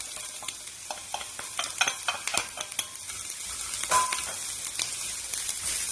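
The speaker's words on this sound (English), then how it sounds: "So now we're going to add the dry shrimp." Dried shrimp stirred in a hot frying pan while making Vietnamese dry egg noodles with sauce, giving a steady close sizzle broken by repeated scraping strokes of the utensil against the pan, with no talking.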